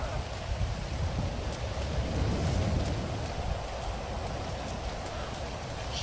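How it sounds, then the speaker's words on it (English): Steady rain pours down outdoors, a constant broadband hiss of drops hitting surfaces, with a low rumble underneath and no voices. "Still raining."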